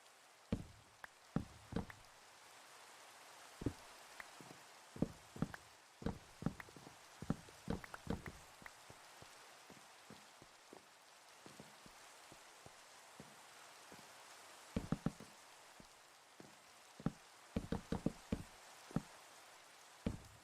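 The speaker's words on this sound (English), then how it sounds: "Rain again." Rain falling outdoors, heard as scattered sharp drops and taps striking a surface, irregular and fairly close, with quieter stretches between clusters of hits.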